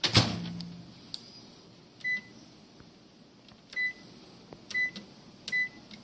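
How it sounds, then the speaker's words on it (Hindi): Microwave oven running on high for one minute, a low steady hum with faint clicks and a few short beeps scattered through, quiet and close. "1 मिनट के लिए माइक्रो हाई पे जा रहा है ये"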